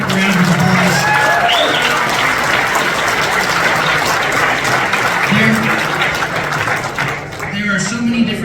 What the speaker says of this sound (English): everybody give our sponsors a big round of applause